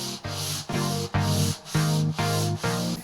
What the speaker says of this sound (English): Filler is applied and sanded down to smoothness.